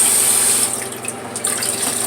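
Water sloshes and splashes in a shaving bowl holding stubble-filled water during a face shave, a steady close watery wash with a brief dip and renewed splashing.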